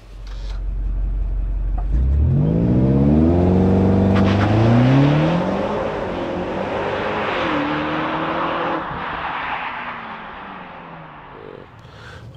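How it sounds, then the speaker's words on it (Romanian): Twin-turbo 625 hp V8 of a 2024 BMW X5M Competition in Sport Plus, revving hard and climbing through rising, sweeping engine tones while driving, loud and close with no talking. "acest V8 Twin Turbo de 625, de ți-a umplut gura, când zici"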